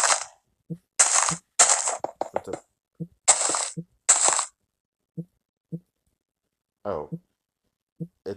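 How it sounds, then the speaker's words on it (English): Sound glitch in a theme park building video game: bursts of crackling noise alternate with short low pops and clicks, irregular and separated by silence, with a brief spoken word in the middle. "it's this glitch again, the sound glitch."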